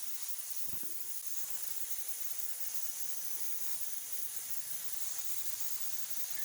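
A paint spray gun lays down coats of sealer and color on a 1968 Dodge Charger R/T under restoration, giving a steady, even hiss throughout at moderate distance, with no voices.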